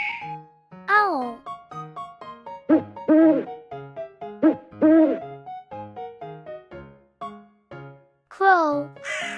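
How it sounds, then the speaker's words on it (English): A few soft owl hoots sound over a bouncy, plinking musical backing that runs throughout. "Owl."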